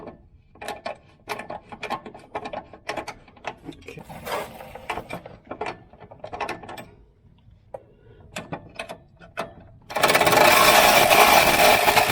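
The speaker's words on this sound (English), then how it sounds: "now I need to get my lock washer and nut on the back of this" Irregular metallic clicks and ratcheting as a lock washer and nut are tightened onto a shock absorber on a C3 Corvette, close and sharp, ending in a sudden burst of loud noise.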